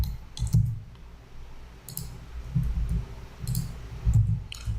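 Computer mouse clicking at a desk, several sharp quiet clicks spaced irregularly over a low background hum.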